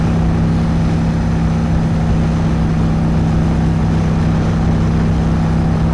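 A Honda Shadow 750 motorcycle cruising at highway speed gives a loud, steady engine drone with a strong low hum and constant wind rush, unbroken throughout.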